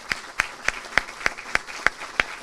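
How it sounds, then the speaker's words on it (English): A handful of slow, evenly spaced claps ring out at a school awards ceremony, eight or so sharp hits about a third of a second apart, moderately loud in a room with no talking. "Let's have a round of applause."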